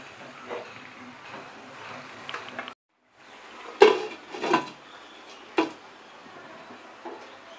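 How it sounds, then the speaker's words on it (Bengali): A lid goes onto a pot of Bengali vegetarian aloo dum set over a medium flame. A few sharp metallic clanks and clatters stand out clearly after a short gap in the quiet kitchen background. "আঁচটাকে মিডিয়াম ফ্লেমে করে এবার আমরা এটাকে ঢেকে দেব"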